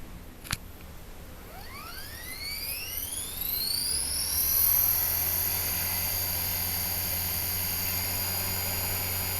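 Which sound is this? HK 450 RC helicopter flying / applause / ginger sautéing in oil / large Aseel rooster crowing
HK 450 RC helicopter flying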